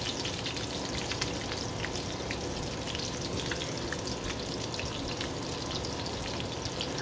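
Two tablespoons of butter melting in a hot pan with shrimp, a steady crackling sizzle with fine popping spatters, close and even for the whole stretch.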